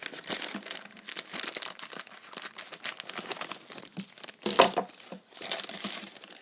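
Plastic blind box packaging for a dragon toy crinkles and rustles steadily up close as it is handled and cut open with scissors, with dense crackling throughout and a sharper crunch near the end.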